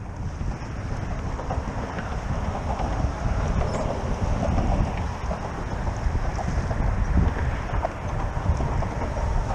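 Strong wind gusts steadily over rough water around a kayak on a cold day, a loud continuous rush of buffeting microphone wind and lapping waves with no pauses.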